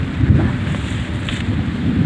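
Strong gusty thunderstorm wind roaring against the microphone, a dense continuous low rumble with no clear thunderclap or voices.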